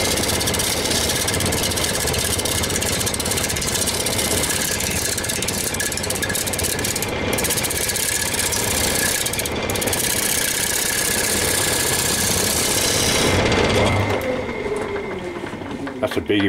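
A woodturning lathe with a scraping tool working an ash bowl, giving a continuous dense whir and hiss of cutting that holds steady at close range before easing off near the end.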